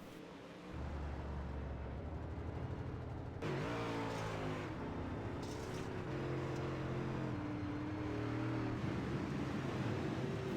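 Modified dirt race cars in the iRacing video game drone and rev continuously, engine pitch rising and falling as several cars run together, loud with no talk over them.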